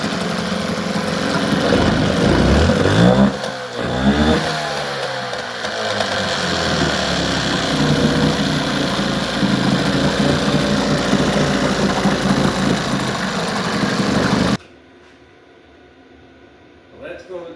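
An old Johnson 9.9 outboard motor with a weak fuel pump runs at a steady, loud idle with a throaty rumble and a brief shift in pitch early on, then cuts out abruptly into near silence.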